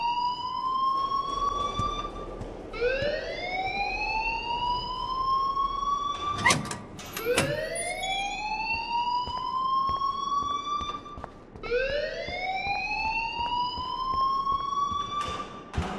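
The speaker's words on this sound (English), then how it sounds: "please turn off that alarm since that's your job" A building alarm in the video game Life is Strange wails in rising, siren-like sweeps, repeating about four times at a steady pace, loud and close, with a couple of brief thumps midway.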